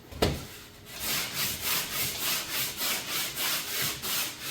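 Dried drywall compound is sanded by hand in quick, even back-and-forth strokes, about ten rhythmic rasping sweeps close by, with no voices.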